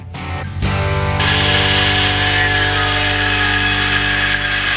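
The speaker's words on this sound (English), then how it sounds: "I got started with my angle grinder here with a cutoff wheel and proceeded to cut these casters off" An angle grinder fitted with a cutoff wheel bites into steel to cut welded casters off a metal shop table, spinning up, then holding a loud, steady, close high whine.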